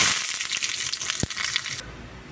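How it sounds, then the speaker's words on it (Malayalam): Mustard seeds, a chopped dried chili and curry leaves sizzle in hot oil as a tempering for drumstick curd curry: a loud, dense crackling hiss up close that cuts off abruptly near the end. "കടുക് പൊട്ടിയിട്ടുണ്ട് ഇനി കുറച്ച് കടുകും കൂടി ഇട്ട് കൊടുക്കാം"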